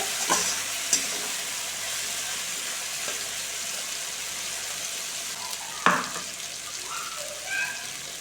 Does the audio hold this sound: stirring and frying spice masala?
yes